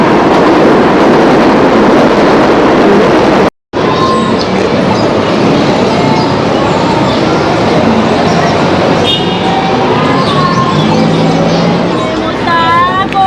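A loud, steady rumble of a train rolling past nearby on a bridge in Queens, New York, with rattling wheels and high metallic squeals building toward the end.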